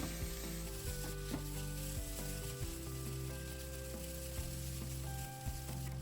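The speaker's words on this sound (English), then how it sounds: "stir as if turning the noodles upside down, and fry it again." Steady crackling sizzle of yakisoba noodles frying in a pan, with scraping and clinking as the noodles are stirred and turned, continuous and close.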